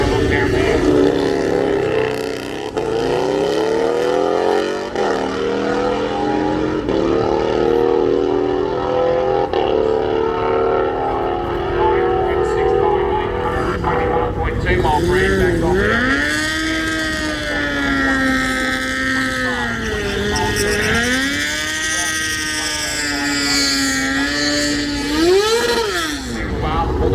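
A 2012 Suzuki Hayabusa motorcycle at an off-street drag racing event at a dragway, with loud sustained engine roar and rising and falling revs under an announcer's continuous commentary.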